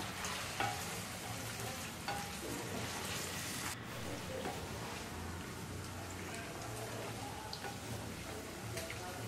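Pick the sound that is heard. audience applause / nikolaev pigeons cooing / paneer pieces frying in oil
paneer pieces frying in oil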